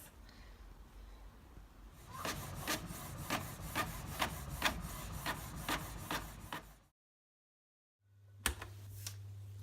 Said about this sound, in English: I'm now printing off all of the lyrics to all the Body Pump songs